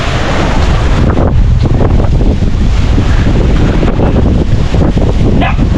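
Gusty typhoon Uwan wind batters the microphone in loud, continuous roaring buffets that swell and ease, with no talking over it.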